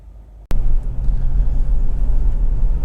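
A Honda CR-V 2.0 i-VTEC Executive engine starting abruptly after near silence, then settling into a loud, steady low idle rumble close by, no talk.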